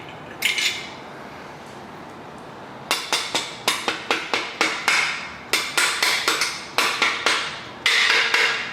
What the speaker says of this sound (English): Plastic hammer on this one.